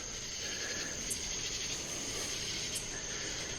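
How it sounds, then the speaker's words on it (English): A steady chorus of frogs calls on a warm night in the North Carolina area near Davidson and Cornelius, a continuous high trill with a few brief louder chirps, heard from a bicycle on an evening ride. "You hear the frogs?"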